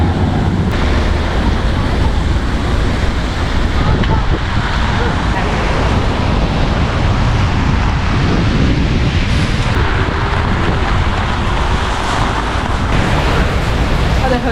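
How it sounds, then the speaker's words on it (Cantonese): Heavy December monsoon rain and strong wind lash an outdoor spot in Singapore, a dense, loud, unbroken roar of downpour and gusts buffeting the microphone for the whole stretch. "因為實在太大雨，行唔到啦！"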